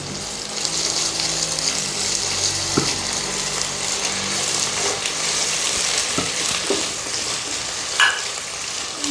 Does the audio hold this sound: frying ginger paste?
yes